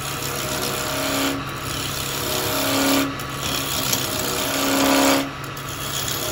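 Wood lathe spinning just over 2,000 RPM while a bowl is turned with carbide chisels: a steady loud whirring hum, broken three times by short scraping cuts that change the pitch.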